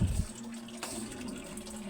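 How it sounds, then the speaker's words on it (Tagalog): Water runs from a tap into a container, a steady close hiss and gurgle with no voices. "Mag-i-start na naman mag-ipon ng tubig."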